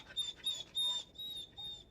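A dog whimpers in short high-pitched bursts during a massage, about five quick squeaky cries in a row, close and fairly faint, with no talking.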